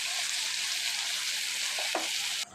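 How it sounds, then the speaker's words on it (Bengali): Spice paste for a poa fish bhuna fries in a pan with a loud, even, dense sizzle throughout, a brief soft stirring scrape near the end, then the sizzle suddenly drops away. "আমি মশলা সুন্দর করে কষাই নিচ্ছি"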